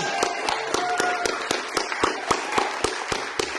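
An audience at a producer awards night applauds in a crowded wash of clapping, with sharper individual claps standing out at a fairly regular pulse and little talk.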